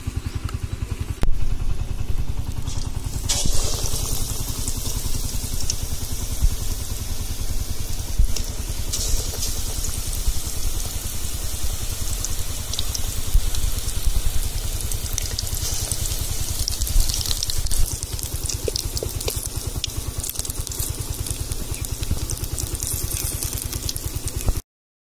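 Eggs sizzle in hot oil in a pan for chicken egg bonda, a constant dense crackling hiss with occasional pops and clatter lasting throughout.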